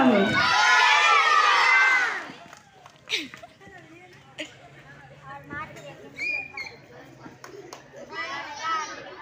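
An audience at a children's staged story performance of the Rama Setu episode bursts into loud crowd cheering and shouting for about two seconds. It then drops away to scattered children's voices, small knocks and chatter.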